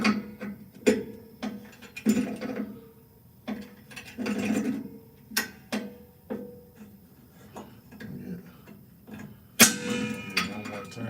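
A ratchet gives an extra turn on a part during a repair before the tire is aired back up, with intermittent bursts of mechanical clicking that rise and fall in rhythmic pulses, fairly close, with no talk.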